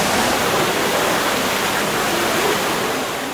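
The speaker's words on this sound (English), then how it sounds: "I did manage some very nice photographs of the Trevi Fountain" Water from the Trevi Fountain in Rome rushes and splashes steadily, a dense, continuous roar of falling water filling the crowded square, loud and unbroken throughout.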